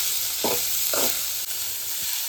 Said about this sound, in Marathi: कांदा जरा आता ब्राऊन होतोय आणि मिरची पण भाजते.